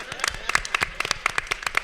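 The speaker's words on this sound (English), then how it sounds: "You can give that a round of applause" A short burst of applause from a convention panel audience, dense hand claps rising and falling in quick overlapping waves.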